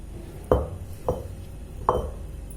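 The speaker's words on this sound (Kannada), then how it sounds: "ಈಗ ಒಗ್ಗರಣೆಗೆ ಬಾಣಲೆ ಇಟ್ಟಿದ್ದೀನಿ" A frying pan is set down on a kitchen stove to heat for tempering, the same pan earlier used for frying chillies, while mango pachadi is being made; three separate close metallic knocks and clunks, each brief, against a quiet room.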